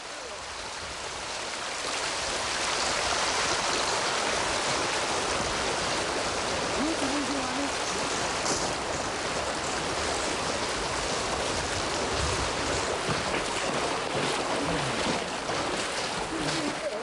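River water flowing steadily under Himalayan shade, a continuous broad rushing wash that rises in the first seconds and then holds loud and even with no voices.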